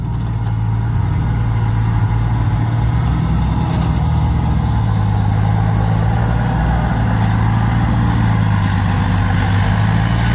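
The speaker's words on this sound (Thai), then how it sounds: "นี่ยฟังเสียง เสียงนี่เหมือนรถจะแรงมากเลยเนาะ" A heavily modified Victor 344 ten-wheel truck engine runs loud and close, a deep continuous rumbling drone holding steady throughout with no voices.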